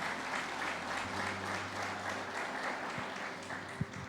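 Church congregation applauding together, dense sustained clapping filling the room at moderate distance, with a few low thumps and faint background voices.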